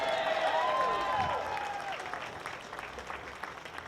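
Rally crowd applauding a speaker at a protest demanding a hospital, a steady wash of clapping that begins loud and fades gradually over a few seconds, with a brief whistle-like tone near the start.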